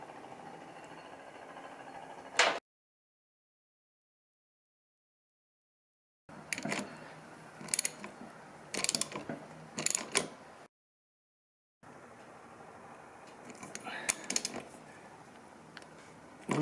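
A DID KM500R chain tool presses a rivet on a motorcycle drive chain, giving bursts of close metallic clicks, creaks and ratcheting between pauses, moderately loud with no talk.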